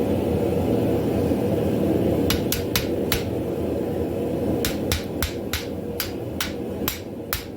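A chisel is hammered into hot steel to split the end while forging a split cross: about fourteen sharp, ringing metallic strikes, scattered at first and then more evenly paced, over a steady low roar.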